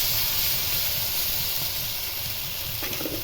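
A masala of tomato and gram flour sizzles in oil in a pan, making a steady, even hiss close up with faint crackle, continuous for the whole stretch and free of speech.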